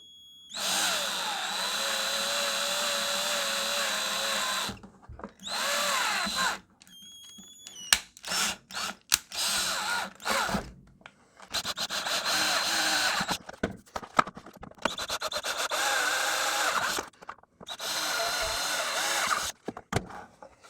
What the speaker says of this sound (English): I'm using a drill that's just a tiny bit bigger than the screw thread.